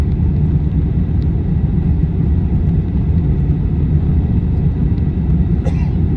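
China Southern Airlines Airbus A350 taking off from Guangzhou Baiyun International Airport, a loud steady low engine roar inside the cabin throughout.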